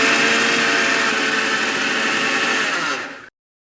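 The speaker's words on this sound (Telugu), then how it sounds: "మెత్తగా పౌడర్గా మిక్సీ పట్టుకోవాలి" A kitchen mixer grinder whirs loudly and continuously as it grinds roasted spices and salt into powder in its jar, then cuts off abruptly near the end.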